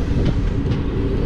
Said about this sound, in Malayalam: ഒരു ട്രെയിൻ വരുന്നുണ്ട് കേട്ടോ.